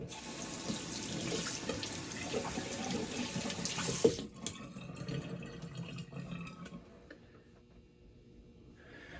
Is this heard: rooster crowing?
no